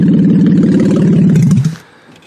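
A demolition derby car with reinforced driver door revs hard as it rolls off a trailer, a loud, close, rumbling engine roar that holds steady for about a second and a half before cutting off abruptly to a quiet tail.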